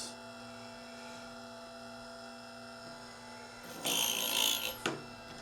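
A Hornady High Speed 3-in-1 power case trimmer cuts a brass case in one brief, loud grinding burst of about a second, rising over a steady motor hum and then cutting off.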